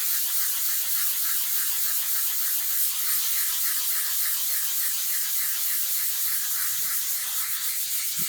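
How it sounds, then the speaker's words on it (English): Soapstone being sanded by hand in circles with 240-grit sandpaper, a soft, even, hissy scrubbing with a faint repeating rhythm throughout, close up and alone. "as I progress now to the 240, I'm going to enlarge the area and again sand circularly over the 3 areas"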